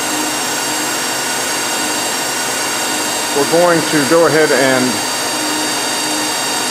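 A loud, constant mechanical roar of an industrial hot air blower fills the scene throughout, with someone briefly speaking over it midway.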